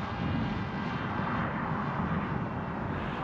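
Steady, unbroken drone of a DIY cardboard plank-style RC plane weighing 626 grams in cruising flight, its propeller motor a constant broadband whir with some wind rush, no voices.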